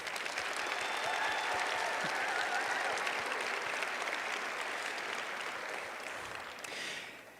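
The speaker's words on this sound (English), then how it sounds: "Let's give our faculty a round of applause" Sustained audience applause honoring faculty at a nursing pinning ceremony, a dense steady wash of many hands clapping that thins slightly and fades near the end.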